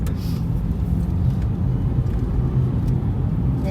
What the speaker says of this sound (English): Get a lot of cars up through here.